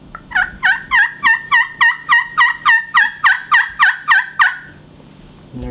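A slate turkey call worked with a striker gives a steady run of about thirteen hen yelps, crisp, close and evenly spaced, before falling quiet.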